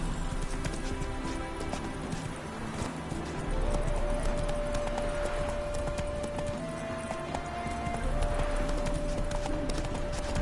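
Galloping horse hooves pound steadily in The Witcher III on PS4, a dense continuous drumming alongside a faint sustained game tone.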